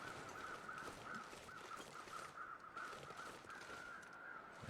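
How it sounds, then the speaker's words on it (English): Crows caw repeatedly in a steady series across a snowy outdoor scene in the survival video game The Long Dark, over a constant bed of wind hiss. "Alright, the birds are out today."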